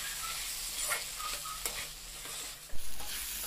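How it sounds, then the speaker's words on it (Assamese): Kidney beans fry with spice masala in a pan for Assamese-style rajma curry, a soft steady sizzle broken by a spoon scraping and clinking against the pan, close but quiet, with no voices. "এতিয়া আটাইখিনি আকৌ কিছু সময়ৰ বাবে এনেদৰে ভাজি ল'ম।"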